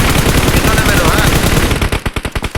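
Rapid automatic gunfire rattles in a shooter video game, loud and close, in dense bursts that break into separate sharp shots at the end, with people talking underneath.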